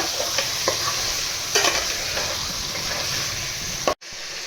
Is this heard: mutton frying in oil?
yes